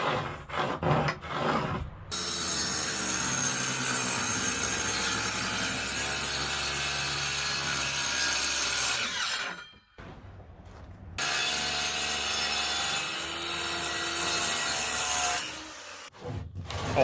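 Wood pieces for a truck camper build are cut by saw, loud rasping strokes that run in sustained bursts with brief pauses between cuts, close to the microphone and with no talk.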